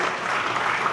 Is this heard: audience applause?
yes